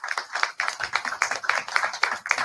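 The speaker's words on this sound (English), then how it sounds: "Give him a big round of applause." Dense applause from a community gathering audience, many hands clapping in continuous rapid bursts that swell and dip in waves, fairly close and loud with no talk over it.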